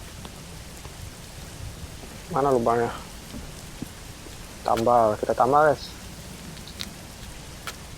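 Steady rain pattering across surfaces in the Roblox survival game Pine Fall, a constant soft hiss throughout, with a young person speaking over it in two short bursts.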